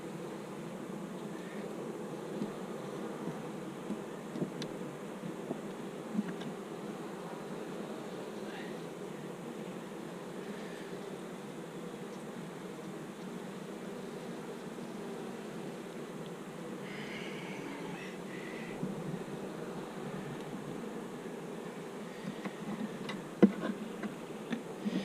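Honeybees hum steadily in an open hive during a summer mite check, a low, even drone holding for the whole stretch with faint ticks and light handling sounds scattered over it.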